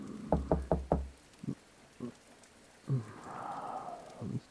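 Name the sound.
knocking on a door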